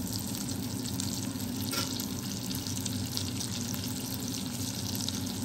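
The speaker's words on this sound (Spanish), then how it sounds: "ahorita voy a poner la cebolla" Onion frying in a pot where chicken was just browned, a loud, steady, close hiss and crackle of sizzling oil that stays continuous throughout, with a brief scrape partway through.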